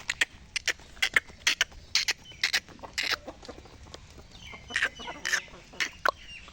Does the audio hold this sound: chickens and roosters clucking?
yes